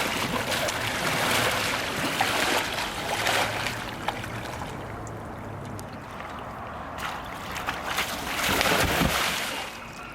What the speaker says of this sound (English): Now demonstrate a back deck roll with my hand.